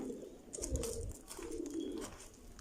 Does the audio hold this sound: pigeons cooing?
yes